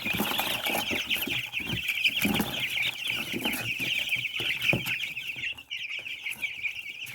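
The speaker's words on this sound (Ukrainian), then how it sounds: "Ось такі вже гарні підрощені курчатка." A flock of chickens and chicks cluck and cheep continuously nearby, a dense, chattering chorus with occasional louder clucks.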